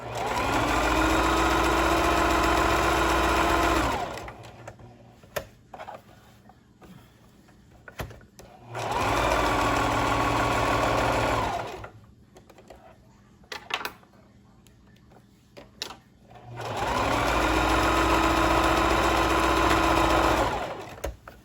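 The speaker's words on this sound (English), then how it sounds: "And you're gonna put it under your needle foot. And you gotta stitch it together." A sewing machine stitches the seams of a stretchy T-shirt top in three long, steady motorized runs with a near, even whir, separated by quiet pauses of fabric handling.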